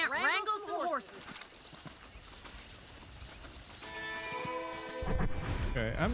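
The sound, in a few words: horses in video game Red Dead Redemption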